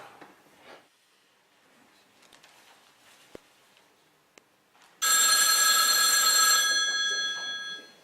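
A telephone bell rings loudly and continuously for about three seconds after a stretch of quiet room sound with a few faint knocks, then fades.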